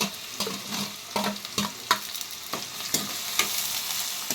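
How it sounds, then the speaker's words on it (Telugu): Onions and green chillies fry steadily in a pan, a continuous sizzle broken by a regular rhythm of scraping stirs, close and moderately loud with no talking. "ఉల్లిపాయలు, పచ్చిమిరపకాయలు అవి ఏగుతూ ఉంటాయి"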